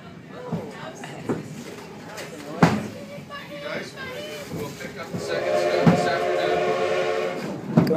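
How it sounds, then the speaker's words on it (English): The Durango-Silverton steam train runs on its rails, with periodic clanks and rumbling car noise that builds toward the end. A whistle-like tone rises near the close, and people talk over it. "the Durango Silverton steam engine train to Silverton"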